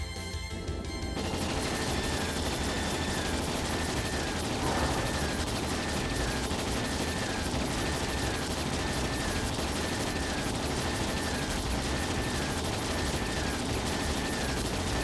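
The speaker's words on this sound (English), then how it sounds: "All ships fire!" Fleets of airships fire cannons at a dragon in the video game Trails in the Sky SC, a dense continuous barrage of booming shots and rumbling explosions mixed with game music, steady and loud throughout.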